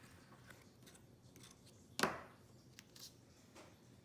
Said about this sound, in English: I take my knife and I just cut them on the diagonal